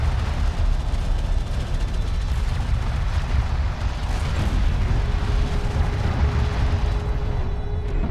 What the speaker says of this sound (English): Armored vehicle is taking fire.